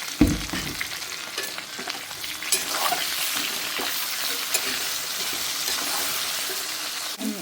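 Onions fry in a pan with spices and coriander, giving a constant close sizzle with occasional sharper pops and stirring scrapes, alone without talk.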